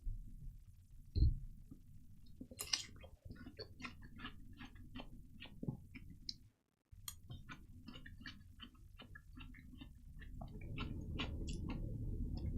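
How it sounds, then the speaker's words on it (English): Close, crunchy chewing of watermelon, with many short crisp bites in an irregular rhythm over a steady low indoor hum, one brief gap of silence midway. "I'm crunching the watermelon because finally the watermelons are on sale."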